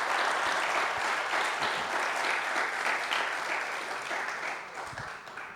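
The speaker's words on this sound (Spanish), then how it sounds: "Aplauda al Señor en esta tarde." A church congregation claps in steady, dense applause that fills the room and slowly fades toward the end.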